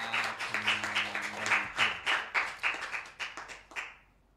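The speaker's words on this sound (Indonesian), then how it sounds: "tepuk tangan luar biasa untuk Mbak Eka" An audience applauds at an Indonesian arts and culture event, a steady round of clapping with scattered louder claps that tapers off near the end; no talk over it.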